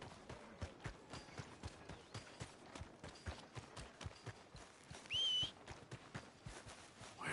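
A horse in Red Dead Redemption 2 runs with fast, regular hoofbeats, loud and close over a low ambient bed. A short whistle cuts in partway through.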